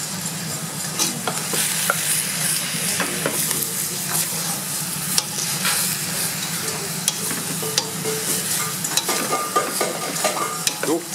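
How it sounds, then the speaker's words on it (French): A spoon steadily stirs bolognese sauce with thyme and bay leaf in a hot pan, a continuous close sizzle broken by frequent scraping clicks. "Donc là, tu mélanges."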